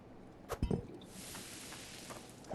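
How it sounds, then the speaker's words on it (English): In the mining game Hydroneer, a hammer taps twice with light metallic clinks, followed by a faint ringing chime signalling that gold is ready, over a low steady background hum. "Oh, that's the sound of gold being ready."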